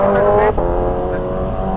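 A motorcycle passes on a Zamboanga road, a short engine rumble with a brief rising rev heard close amid traffic; someone talks quietly underneath.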